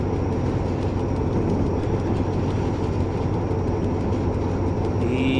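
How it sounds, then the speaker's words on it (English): Train wagons of a TCDD DE 24000 diesel locomotive roll steadily through the Taurus Mountains in Train Simulator, a continuous low rumble with faint rail noise throughout. "I love the sounds the wagons make."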